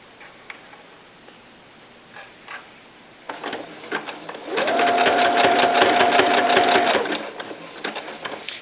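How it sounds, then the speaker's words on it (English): A sewing machine runs a zigzag stitch on fabric for a doll bra. Faint clicks and handling come first, then the motor starts and whirs steadily for about two seconds with a rapid needle tick before it stops. "Same zigzag stitch, your factory setting zigzag. And get that tucked in. And let's start sewing."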